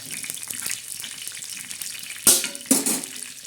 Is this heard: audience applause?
no